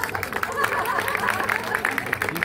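A crowd applauds at a Thor and Loki show at Disneyland Paris, with dense clapping blended with crowd babble and voices, steady and moderately loud throughout.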